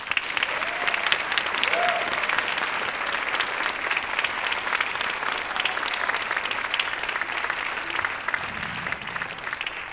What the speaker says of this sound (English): Once again, another round of applause.